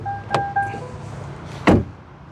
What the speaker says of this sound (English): Let's do a door sound check test.